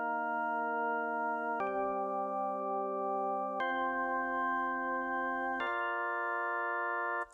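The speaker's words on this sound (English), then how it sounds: "we're going to be just adding some basic synth chords." Plain synth organ chords, dry and unprocessed, four long sustained chords changing every two seconds or so, clean and steady, alone with no voices, ending abruptly.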